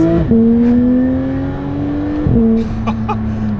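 Porsche 911 GT3 engine pulling hard from inside the car, a loud, smooth rising howl that drops briefly at a gear change and climbs again, with no talking.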